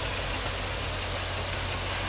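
A 2002 GMC 6500 dump truck's 8.1-liter gasoline V8 runs steadily at close range, cold and with slight piston slap, producing a constant low rumble with no voices.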